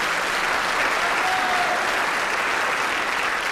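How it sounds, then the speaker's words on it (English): Sustained audience applause at a high school graduation ceremony for graduating seniors, a loud, even roar of many hands clapping without pause, with a faint murmur of the crowd underneath. "Please give this special group of seniors a round of applause."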